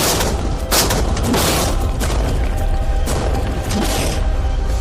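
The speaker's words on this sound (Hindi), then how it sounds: "टैंक्स की रैपिड फायर से मजा आ रहा है" Tanks fire rapid shots, a dense barrage of heavy booms and blasts packed closely together, loud and continuous with no pauses.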